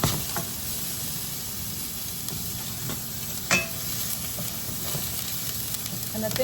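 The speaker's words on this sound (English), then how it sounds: "we're going to saute onions until they're tender" Chopped onions sautéing in a hot pan for franks and beans, a steady, fairly quiet frying sizzle and hiss with a brief louder stir or scrape midway.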